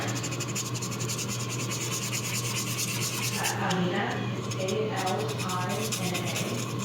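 A sanding sponge scuffs primer off a resin 3D print, its close rhythmic rubbing running throughout while a voice speaks briefly partway through.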